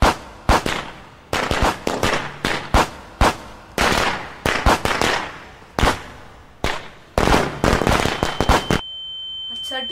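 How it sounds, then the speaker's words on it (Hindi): Firecrackers burst outside during Diwali: a long, loud, irregular volley of sharp cracks and rapid pops, some in fast clusters, ending abruptly and leaving a faint high tone. "अरे इस टाइम कौन पटाखे फोड़ता है बे?"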